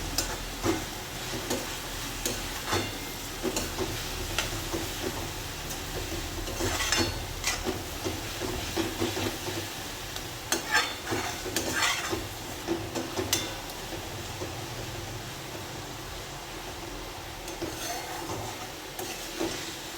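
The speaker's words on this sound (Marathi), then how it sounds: "हा पण तेलात टाकून चांगल्यापैकी परतवून घ्यायचा आहे" Dried javla shrimp sauté in hot oil as a steady sizzle with intermittent scraping stirs of a spatula in the pan, continuous and moderately close.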